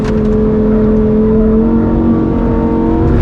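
A 2023 Lamborghini Huracan Tecnica on track under throttle, its engine a loud, sustained high-revving wail heard from inside the car, steady and continuous without any talk.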